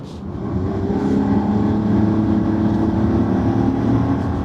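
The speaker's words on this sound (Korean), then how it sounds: "가속하는 동안 엔진이 내는 소리는 트랙스가 확실히 시끄럽긴 한데요" A Chevrolet Trax crossover's engine drones steadily and loudly as the car accelerates, a strained, continuous hum heard from inside the car with no talking.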